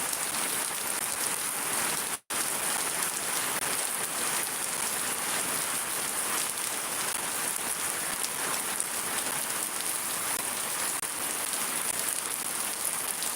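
Heavy rain in Shariatpur pelts down steadily on surfaces, a loud, dense hiss of drops close by, with one brief dropout near the start and no talk.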